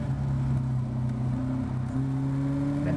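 A Caterham race car accelerates hard onto the start-finish straight at Cadwell Park during a Caterham Academy race, its engine a loud, close, steady drone that rises in pitch and briefly dips at a gear change.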